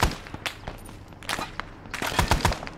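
Rapid gunfire in the military video game Arma 3 during a jungle convoy fight: sharp, loud repeated shots in clustered bursts, close and alone without talk.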